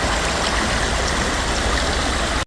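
The waterfalls of the Guaxinduba river at Canta Galo give a loud, steady roar of rushing water that fills the whole clip without a break.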